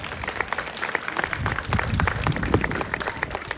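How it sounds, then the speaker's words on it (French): An audience at the Miss & Mister Le Baizil 2025 pageant applauds a group of young contestants, with dense crowd clapping that sounds somewhat distant and builds slightly toward the end. "Vous pouvez tous les applaudir quand même."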